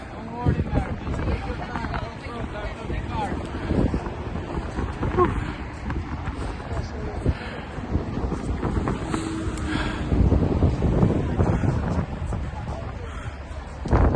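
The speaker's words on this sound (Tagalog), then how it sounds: "lakas ng hangin sa lamig pa" Strong, cold wind buffets the microphone in a steady, roaring rush, with a voice and footsteps faintly mixed in throughout.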